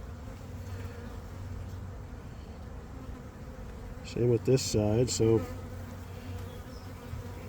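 Honey bees from a laying-worker colony drone steadily around an open hive. The buzzing is continuous and moderately close throughout, and someone speaks briefly over it midway.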